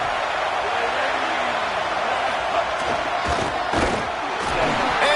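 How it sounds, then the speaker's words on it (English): A packed stadium crowd roars loudly and continuously during a Texas A&M at LSU college football game, a dense sustained wall of noise with a play-by-play commentator talking over it. "this crowd trying to help keep them there"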